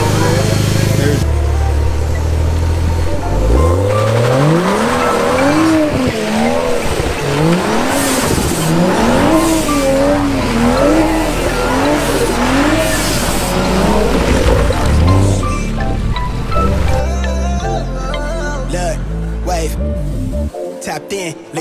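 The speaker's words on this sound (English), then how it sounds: "I'm just doing some donuts in the rain so I don't burn up my tires that much." A BMW 435i spins donuts on a slippery, rain-soaked surface, its engine revving and tires squealing and skidding in wavering sweeps, partly buried under loud music with vocals and some talking.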